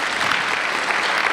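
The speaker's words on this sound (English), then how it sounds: "A round of applause for everyone." A brief burst of applause from a satsang gathering in New South Wales, steady, fairly close clapping from a group with no voices over it.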